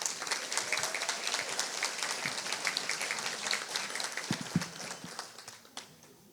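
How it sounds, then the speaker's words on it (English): Audience applause fills a room at a disability-advocacy organization's 2024 annual meeting, a dense steady clatter of many hands that tapers off near the end, with a few louder individual claps standing out. "So give yourself a round of applause."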